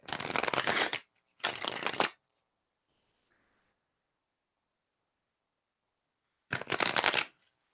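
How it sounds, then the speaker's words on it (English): A deck of tarot cards being shuffled by hand, two quick riffling bursts, a long quiet pause, then a third burst, close and crisp with no talking. "I'm not even going to look while I shuffle"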